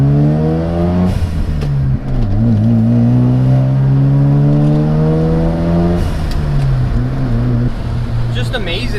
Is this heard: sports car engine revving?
yes